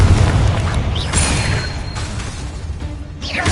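The Confringo spell in Hogwarts Legacy goes off as a loud, booming blast at the start, rumbling and crackling as it fades, with a further burst and whooshing effects near the end.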